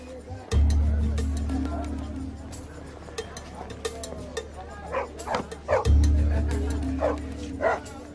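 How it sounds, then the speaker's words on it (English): Village mongrel dogs bark and yip in a lively cluster, with sharp repeated barks and whimpers close by, over a low droning hum that cuts in and out. "Village dogs."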